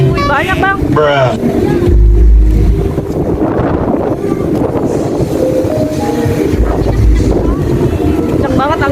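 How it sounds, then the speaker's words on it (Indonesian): Strong gusty wind buffets the microphone in bursts of low rumble at the busy Jakarta Fair at PRJ Kemayoran, while people talk nearby over the steady crowd noise of the fairground. "Kenceng banget anginnya ya bang ya."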